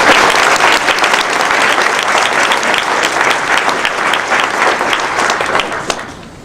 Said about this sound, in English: I would love a big round of applause for all of them